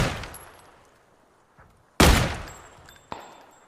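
Gunfire from the PUBG video game comes as a few sharp, loud reports spaced apart. Each shot rings with a decaying tail, and a smaller shot sounds in the distance.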